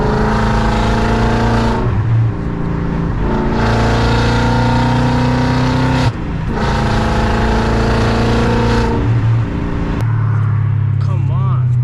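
A loud Audi V8 car drives in traffic, close and loud, with strong engine roar that rises through repeated acceleration pulls, briefly dips between gear changes, then settles to a deeper drone.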